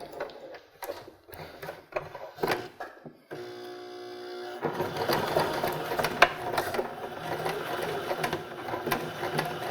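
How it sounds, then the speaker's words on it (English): A sewing machine sews across a nylon zipper coil on a cork box pouch. A few sharp mechanical clicks come first, then a steady, close, continuous whir that runs to the end. "you can sew directly over the nylon coil"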